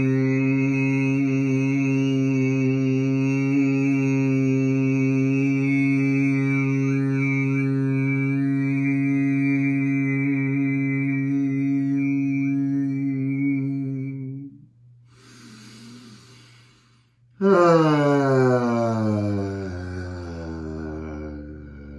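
A sustained, steady humming tone from a yoga class doing Bhramari bee breath, a low buzzing drone held for about fourteen seconds, then a short inhale and a second hum rising in pitch, close and clear with no talk.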